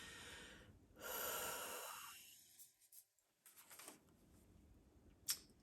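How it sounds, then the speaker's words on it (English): A single deep breath, a long airy inhale taken slowly and close to the microphone, then quieter rustling and small clicks in an otherwise hushed room. "take a deep breath with me"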